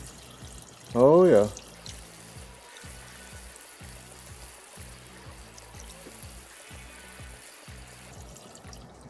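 Coolant pours steadily into an emptied engine cooling system on a GMC 350 motor swap, a low continuous trickle running throughout, with a brief spoken exclamation early on.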